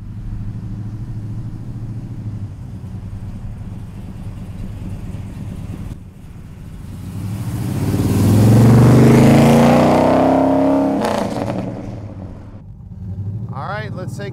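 A 1966 Dodge Coronet hot rod engine idles with a low, steady rumble, then revs up to a loud, swelling roar around the middle before settling back to idle.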